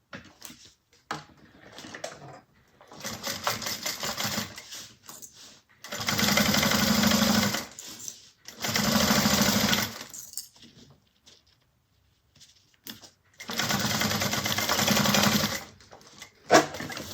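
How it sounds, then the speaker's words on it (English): Sewing machine stitching a bag lining at a quarter-inch seam, running in several separate bursts of steady whirring, loud and close, with quiet pauses between runs. "we're going to sew this at a 1/4 of an inch"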